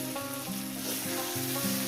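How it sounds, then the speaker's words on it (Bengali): Dried fish masala fries in a pan with a loud, continuous close sizzle, while a low tonal hum or music runs faintly underneath. "একটু ভেজে নেবো তিন মিনিট করে"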